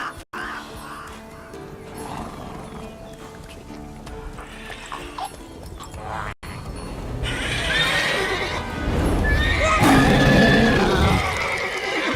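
Geralt's horse Roach in The Witcher 3: Wild Hunt, neighing loudly and close, with hoof clip-clops and game music and ambience underneath, the whinnies rising in the second half, no talking.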